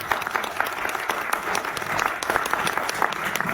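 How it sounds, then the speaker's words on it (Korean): An audience at a lecture forum gives encouraging applause to a speaker, a continuous, even round of many hands clapping with sharp individual claps standing out near the front. "여러분, 우리 이 김 대표에게 격려의 박수를 좀 보내주십시오."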